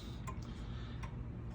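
A repaired chiming clock running steadily, its quiet ticks recurring at a regular pace over a constant low background hum, faint and close.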